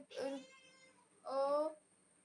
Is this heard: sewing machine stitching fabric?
no